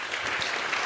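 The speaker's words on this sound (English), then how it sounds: "they all deserve a big round of applause" Audience applause for a panel at a public dialogue event on net zero and nuclear power: a dense, steady wash of many hands clapping with no pauses, holding at an even level throughout the short stretch.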